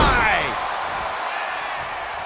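Sharp heavy slam of a leg drop DDT in a wrestling video game, a single loud impact at the start that fades into crowd roar, with commentary talk over it.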